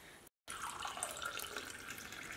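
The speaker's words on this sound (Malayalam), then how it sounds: "അത് നമുക്കൊരു ഗ്ലാസ്സിലേക്ക് ഒഴിക്കാം" A homemade turmeric drink pours steadily into a glass, a continuous splashing trickle after a brief moment of silence, close and fairly quiet.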